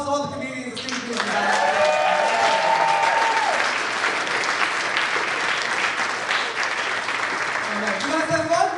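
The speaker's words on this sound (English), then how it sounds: "give a big round of applause to all the comedians and students" Audience at a comedy show breaking into loud, sustained applause that swells in the first seconds and holds as a dense wash of clapping, with some voices cheering over it.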